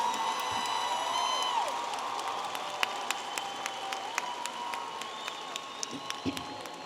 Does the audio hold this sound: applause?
yes